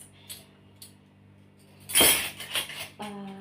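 Metal tablespoons clinking and rattling as they are handled, a few bright close knocks with a burst of clatter midway, over quiet room tone.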